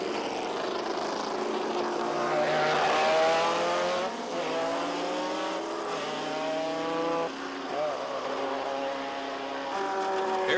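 Can-Am race cars running behind the pace car at Mosport Park in 1985, their engines droning loudly with rising and falling pitch as several machines pass, with no talk over them.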